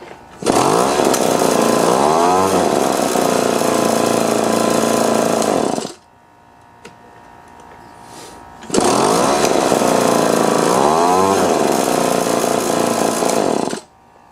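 An Echo two-stroke leaf blower engine runs loud and close in two long bursts, revving with rising and falling pitch. A quieter gap of a few seconds separates the bursts.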